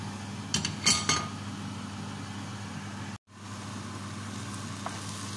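Metal utensil scrapes and clinks in a pan of bitter gourd, zucchini and eggplant, a few short stirring bursts early on over a low steady hum, then quiet cooking.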